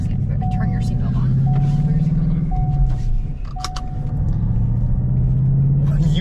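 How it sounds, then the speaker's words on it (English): A 2024 Ford Mustang GT S650 with a manual transmission rumbles close as it pulls off and drives, the engine note rising and falling through the gears while people talk in the cabin. "You are on the road driving a Mustang GT manual transmission."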